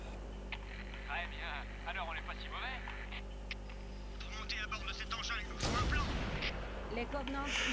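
Gunfire in Halo: Combat Evolved on Xbox One, during the Truth and Reconciliation mission against the Covenant, with in-game voices and radio chatter throughout and a loud blast of fire near the end.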